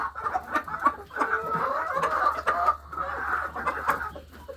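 Hens and other farm fowl cluck and chatter steadily while being fed ration in a poultry yard, a dense, close flock sound with no talking.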